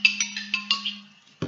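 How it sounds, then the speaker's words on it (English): A brief electronic ringtone chimes in quick repeated notes over a steady low hum, close and fairly loud, ending in a short clatter. "Sorry, that was my phone."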